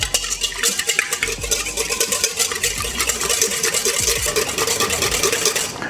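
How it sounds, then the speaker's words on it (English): Eggs whisked with saffron in a bowl, fast steady metallic clicking and scraping of the whisk close up, with no talking. "You can just whisk that up."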